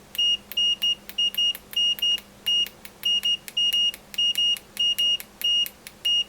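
A Fluke 107 multimeter on continuity with its original test leads gives a rapid series of short, shrill beeps. They come in irregular quick bursts as the probes make and break contact, alone and close.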